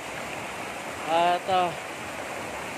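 Water flowing in a stream and waterfall on a farm lot, a soft steady rushing wash heard at a distance, briefly overlaid by a person speaking in the middle.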